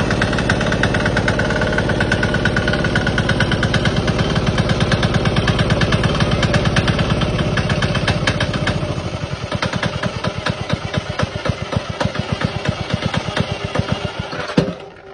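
An F170 fuel-saving diesel engine runs loud and close with a steady chugging beat. Partway through, its rhythm slows and becomes more open and thumping.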